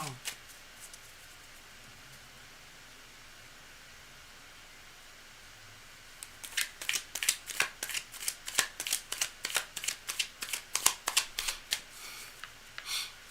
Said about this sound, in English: Cards are well shuffled.